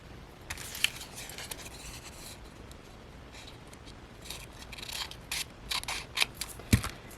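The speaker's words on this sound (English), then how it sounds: "Then you're going to cut that." Scissors snip through a paper scrap for a junk journal page, giving a series of short crisp cuts, close and fairly quiet, with a sharper snip near the end.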